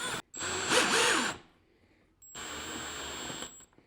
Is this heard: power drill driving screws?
yes